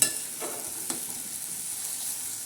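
Slit okra stuffed with crushed peanut masala fries in hot oil while being stirred, a steady sizzle with a couple of brief scraping stirs near the start.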